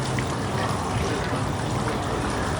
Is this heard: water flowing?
yes